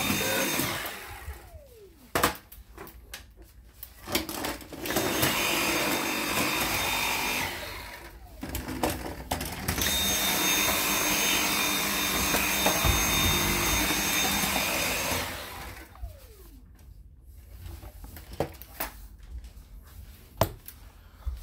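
Dyson V7 cordless vacuum cleaner motor whirring steadily in a home, a loud continuous whine in two long stretches with brief gaps and clicks between them, no talking.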